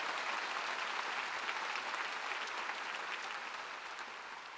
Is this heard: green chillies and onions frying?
no